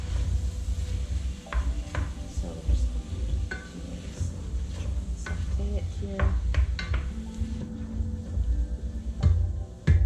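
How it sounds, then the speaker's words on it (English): Wild leeks sauté in a pot for a soup, with a continuous sizzle. A utensil scrapes and clinks against the pot in irregular stirring strokes, close up, and no one speaks. "So we're just going to saute it here."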